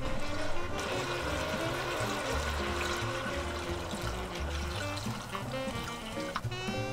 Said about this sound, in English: then add in the water.